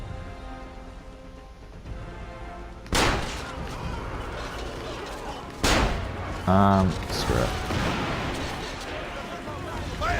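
Cannon fire in Assassin's Creed Revelations: two loud, sharp booms a few seconds apart, each followed by crackling, rain-like debris noise, over ongoing game sounds while a player talks.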